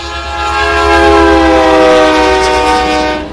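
CN freight train passing near Ladysmith, its horn blaring in one loud, sustained chord that holds steady for the whole stretch over a low rumble.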